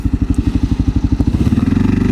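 A 2022 Kawasaki KLR650 motorcycle engine thumps in a rapid, steady pulse close by, then settles into a smoother, quicker drone as it gets going.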